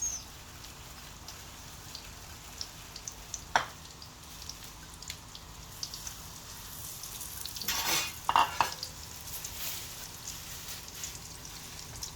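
Cinnamon bread lightly frying in a pan gives a faint, steady sizzle like light rain, with a couple of sharp taps and a louder burst of spattering and scraping about two-thirds through, no voices.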